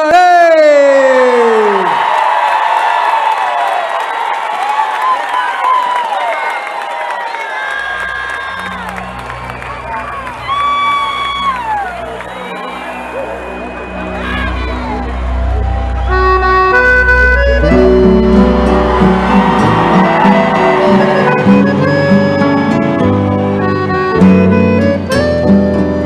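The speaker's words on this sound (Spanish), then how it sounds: "El aplauso grande para recibir a los de" A festival crowd at the national chamamé celebration claps and cheers loudly, whoops rising over sustained applause as a band is welcomed, with music swelling in beneath the roar.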